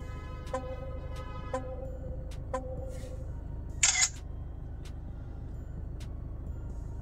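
A 70mai Dash Cam Omni 360° rotating dash cam taking a selfie, a single short bright shutter click inside a car after a few faint chime ticks, over a low steady engine and road hum.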